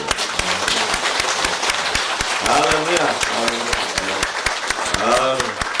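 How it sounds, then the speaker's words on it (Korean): A church seminar congregation applauds continuously at close range, a steady wash of many hands clapping with a few voices rising within it. "우리 예수님한테 박수 한번 해주세요."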